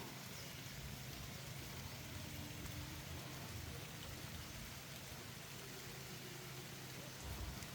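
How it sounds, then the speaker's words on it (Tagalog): Soft, steady light rain patters as a constant hiss for several seconds over a goat area, faint and even, with no voices and a low background rumble. "Umuulan naman. Tapos yung ulan na ito, mahina lang."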